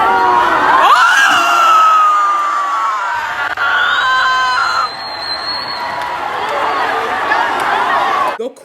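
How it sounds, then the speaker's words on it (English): A homecoming crowd in a school setting screams, whoops and cheers loudly and continuously, with high shrieks rising over a dense roar of voices. "The crowd goes ballistic. Everyone's screaming"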